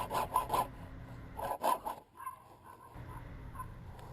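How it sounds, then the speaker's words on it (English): A hacksaw with a sharp blade cuts through PVC downspout drain pipe, giving a few quick rasping strokes in bursts, close and moderately loud, then fading into quieter scraping. "I then transfer that measurement to the pipe and cut the piece with a nice sharp hacksaw blade."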